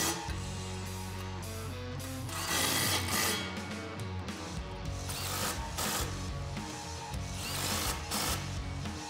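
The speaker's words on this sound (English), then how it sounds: "I am going to tighten these clamps down right now too, so you'll need a 15mm socket for that." Hand ratchet with a 15mm socket tightening exhaust clamps on a 2018-2019 Mustang GT cat-back exhaust, giving steady, rapid clicking strokes in bursts, close and fairly quiet, with no talking.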